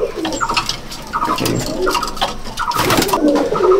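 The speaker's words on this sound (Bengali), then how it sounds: "ধাড়ি মাদি পায়রা থাকে।" Adult female pigeons in a loft in Nepalgangue, Pukurpar, coo loudly and close by, giving repeated throaty warbling phrases that overlap. Faint scratching and wing-shuffling sounds come through between the calls.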